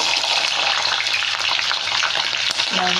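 Green chillies frying in a hot pan with mustard seeds, a loud dense sizzle with crackling pops, steady and close throughout.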